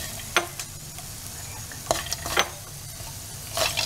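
Peanuts sizzling and frying in a pan, with a few sharp scraping stirs and light crackles over a steady hiss, close by.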